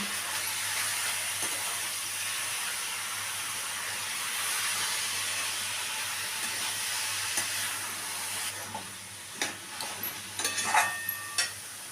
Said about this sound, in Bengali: দিয়ে এবারে এটাকে আমি ভালো করে ভেজে নিচ্ছি